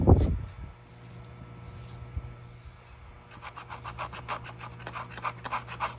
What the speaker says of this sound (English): I just take the putty knife and scrape all the foam off.